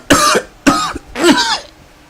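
A man gives three harsh, heavy coughs in quick succession, close and loud, with a slightly longer rasping third cough.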